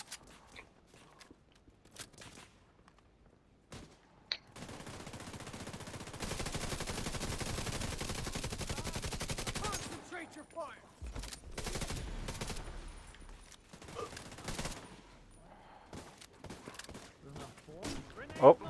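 Video game gunfire crackles in bursts and a sustained rattling volley, with scattered sharp shots and footstep-like clicks, while players talk over it at moderate distance.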